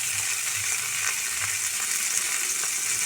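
Cashews, almonds, melon seeds and whole spices such as cinnamon, cardamom and cloves fry in a pan for a tandoori malai paneer paste, giving a steady, close sizzle with faint stirring ticks.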